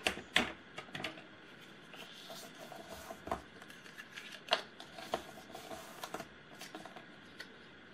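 Paper being cut for a handmade advent mini album, a series of soft, sharp snips and slicing scrapes at an uneven pace, close and quiet, with light handling rustles between them and no talking.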